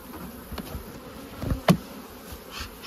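Honey bees buzz around an open beehive outdoors, a soft, continuous hum with a few individual bees zipping close past in short, louder swells.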